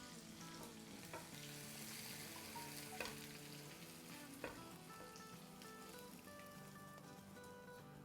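Koftas frying in oil in a pan, giving a continuous soft crackling sizzle much like light rain, with one or two faint clinks of utensils, close but quiet throughout.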